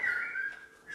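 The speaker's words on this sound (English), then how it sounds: "Sounds like you got a bird in your Clock." Wall clock chiming at one o'clock with a bird-like call: a single short whistling tone, clear and fairly close, that wavers slightly in pitch, alone without speech.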